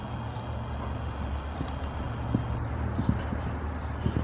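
Hooves of a ridden horse clip-clopping on the ground, a steady rhythm of close, distinct footfalls over a low background rumble.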